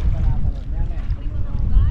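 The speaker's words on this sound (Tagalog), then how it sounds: "Ang lakas ng hangin." Strong wind roars across a boat on a river, a dense low rumble and buffeting that stays loud and steady throughout, with no clear voices.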